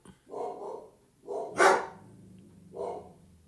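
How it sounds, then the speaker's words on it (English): A dog barks outdoors in front of a house, three loud separate barks or bursts spaced about a second apart, with quiet gaps and a low steady hum in between. "Someone was walking their dog in front of our house."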